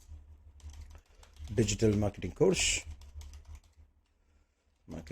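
Keys on a computer keyboard are tapped while typing a project name, giving quiet, scattered clicks, with a voice speaking briefly partway through.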